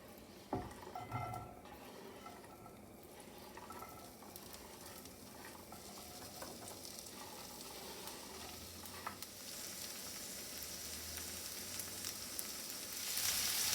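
Corn kernels fry in shimmering hot oil in a pan, a steady close sizzle with faint stirring scrapes that grows slightly louder toward the end.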